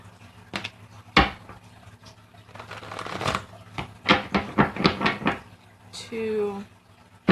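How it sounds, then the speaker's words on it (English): Tarot cards are shuffled by hand in a series of quick, papery riffling bursts, close and moderately loud, counted out in sequence while a person talks between them. "Five more shuffles."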